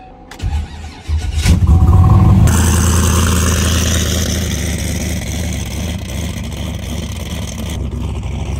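A 1200HP turbo Chevrolet Camaro cold-starts: a brief cranking, then the engine catches with a loud roar that settles into a high, rough fast idle that stays strong and close.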